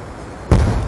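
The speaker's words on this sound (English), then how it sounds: "Flashbang!" A flashbang grenade bursts in a video game with a sudden, sharp bang that cuts through quiet background noise and leaves a short, rumbling tail.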